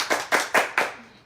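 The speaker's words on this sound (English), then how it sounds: "And can we clap for him?" Four crisp, evenly spaced hand claps ring out close by at an audience question-and-answer event, each sharp strike decaying quickly before the next, then silence.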